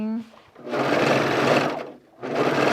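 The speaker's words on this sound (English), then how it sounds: "I'm just going to run it through my serger real quick" Serger overlock machine finishing a raw fabric edge for a garment duffle bag, two loud, close, continuous whirring runs separated by a short pause.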